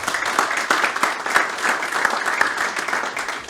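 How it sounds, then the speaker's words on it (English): Loud, sustained applause from an audience at a local business luncheon honoring the mayor of Elk Grove Village, many hands clapping densely and close, with no speech over it. "another round of applause for the incredible mayor of Elk Grove Village"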